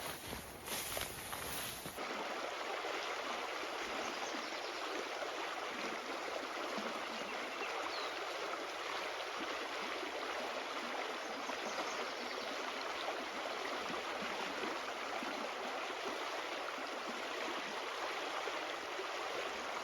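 A creek flows steadily, a constant rushing, trickling wash of water heard close by for the whole stretch, with a brief knock at the start.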